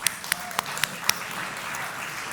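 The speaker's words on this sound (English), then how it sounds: "Big round of applause." Audience applause at a panel on small-scale food producers at a SXSW food summit, a faint diffuse patter with a few sharper claps standing out near the start before it settles into a soft, even wash.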